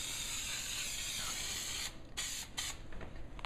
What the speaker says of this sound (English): All right, we're going to spray the back of this piece